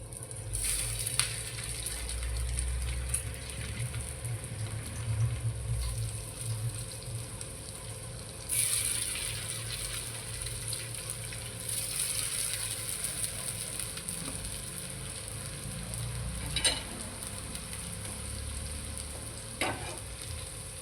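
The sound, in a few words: taro leaf rolls (alu vadi) frying in oil on a griddle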